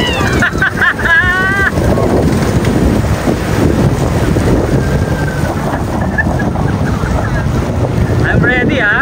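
A jet ski engine runs steadily out on open water, a continuous loud drone mixed with wind buffeting and splashing waves, with brief voices calling out at the start and end.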